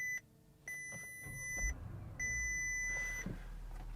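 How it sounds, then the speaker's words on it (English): Two long electronic tones sound one after another inside a Bentley Flying Spur V8, clear and close, over a low engine hum. "Couple beeps."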